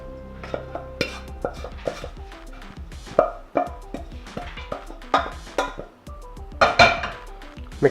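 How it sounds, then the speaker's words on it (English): Clattering kitchen sounds while a spiced lentil mixture is emptied into a bowl of mashed potato for burgers: a spoon scraping and knocking against the bowl in irregular, sharp taps and clinks, close and fairly quiet, with no talking. "now I empty the lentil mixture into here"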